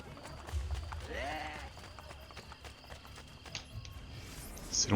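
A horse galloping in the video game Assassin's Creed Brotherhood, with rhythmic hoofbeats under game ambience, a brief animal call and someone talking over it.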